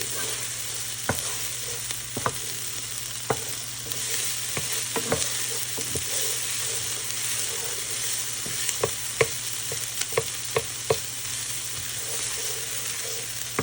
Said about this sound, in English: We're going to give them about 90 more seconds, cooking over high heat, continuing to stir so they don't burn.